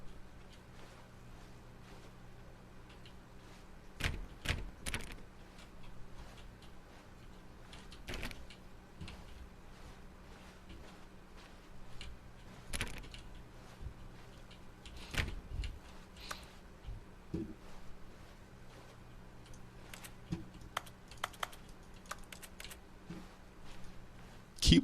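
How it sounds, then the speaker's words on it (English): Keyboard keys click in an office in The Stanley Parable: Ultra Deluxe, with quiet, irregular taps and small bursts of typing spread across a soft background hum. "Keyboard noises."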